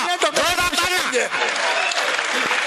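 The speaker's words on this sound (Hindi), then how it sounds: "जोरदार तालियां होनी चाहिए" Audience applause at a Hindi kavi sammelan and mushaira poetry recital, a burst of clapping and cheering that fades into a steady crowd wash, with voices calling out over it.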